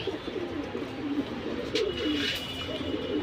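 Silver Bezi pigeons in a loft coo softly in low repeating murmurs, with a few brief higher chirps and rustles over a steady background hiss; no one speaks.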